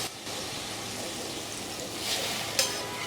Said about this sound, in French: Je vais les égoutter ici directement dans la poêle sale